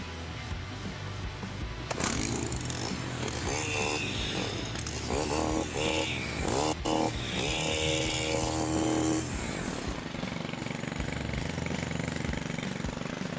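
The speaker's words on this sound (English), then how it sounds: "Motor sounds good, but he's out to the right." A STIHL HT 103 pole saw's small two-stroke motor runs steadily at close range after a brief start, a loud continuous buzzing drone that holds for several seconds and then drops off near the end.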